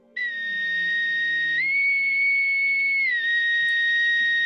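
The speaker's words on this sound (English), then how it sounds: "you hear through the pipes a loud whistling sound" A loud, sustained whistle coming through pipes, holding one steady pitch before stepping up and then back down, close and continuous for several seconds.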